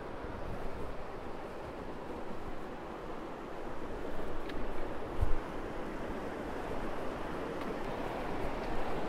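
A river in the Tarkine flows near a cave entrance as a steady, faint, broadband wash of moving water. One brief knock rises out of it partway through, and nobody speaks.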